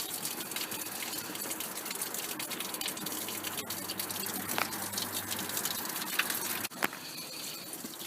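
Water from a garden hose gushes steadily through the cooling system of a Holden Commodore with its water pump removed. The rush stays loud, close and continuous, with a few splashes and drips near the end.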